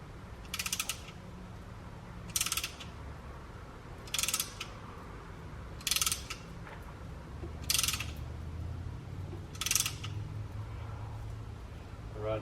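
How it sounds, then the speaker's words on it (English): A hand ratchet pushing brake caliper pistons back on a Nissan Skyline rear brake upgrade: six short bursts of rapid clicking at steady intervals about two seconds apart, close, with quiet background between strokes. "As I ratchet back, you'll see the brake fluid come out."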